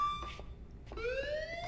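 A fire alarm in the video game Life is Strange sounds as a rising electronic siren-like tone, moderately loud, sweeping upward in steady pitched bands against a low background hum.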